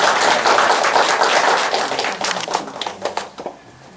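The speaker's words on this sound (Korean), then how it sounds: "다시 한번 박수 한번 주세요." Applause from a church congregation, dense clapping at full strength that thins into scattered individual claps and fades out near the end.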